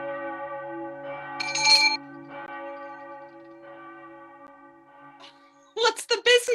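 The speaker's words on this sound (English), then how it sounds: "Ring the alarm bell." An alarm bell sound effect in a live stage performance of Macbeth rings as a sustained, resonant tone with a brighter pulse partway through, fading away before voices break in at the end.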